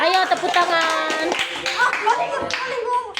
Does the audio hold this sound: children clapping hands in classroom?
yes